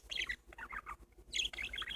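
Pet parakeets chirp in quick bright bursts, several close tweets in a choppy rhythm with short pauses between, fairly soft and without talk over them.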